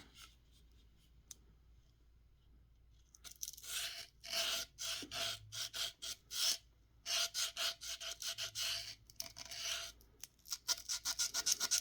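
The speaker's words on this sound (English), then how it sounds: "I'm a fan of the cross kind of scratching, just get a little bit both ways." Abrasive cross-scratching roughens a surface on a Buck/Phrobis M9 knife sheath, a run of close, rasping strokes in quick back-and-forth bursts that begin after a few quiet seconds and continue with short pauses between them.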